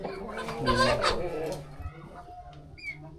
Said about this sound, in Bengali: এটি বাহুমা জাতের খুবই সুন্দর মুরগি